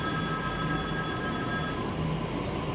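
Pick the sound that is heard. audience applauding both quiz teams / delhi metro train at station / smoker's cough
delhi metro train at station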